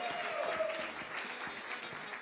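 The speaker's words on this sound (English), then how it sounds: "Let's keep the applause going until she gets here." Gala dinner audience applauding a keynote speaker's arrival, a dense wash of clapping with crowd murmur underneath, sustained throughout.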